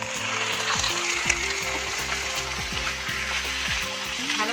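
Small pieces of chicken, about 500 grams, going into a pan of sizzling ginger-garlic paste and onion for chicken hariyali, a loud close frying hiss with a steady underlying hum and no voices.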